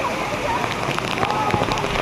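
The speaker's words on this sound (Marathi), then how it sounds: "बघा किती पाऊस पडतोय" Heavy rain pours steadily on an outdoor nature trip, a dense constant hiss with scattered drop impacts, close and loud throughout while people talk.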